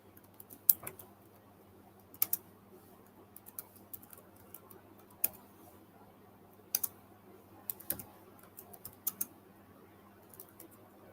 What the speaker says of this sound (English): I'm going to type it in the chat.